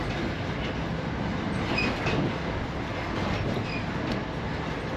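Aboard an old train with a locomotive at each end, a steady broadband rumble of wheels and running gear fills the carriage, with faint brief squeals riding over the constant roar.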